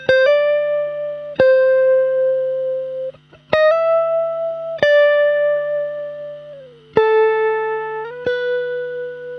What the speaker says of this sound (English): we have an electric guitar in the background, a super noisy Stratocaster that sounds like this